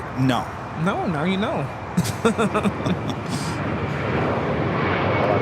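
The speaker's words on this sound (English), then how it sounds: "602 taking off to Amsterdam on the 787-9." A KLM Boeing 787-9 airliner takes off from LAX bound for Amsterdam, its broad, steady jet roar building and swelling from a distance while people talk over it near the microphone.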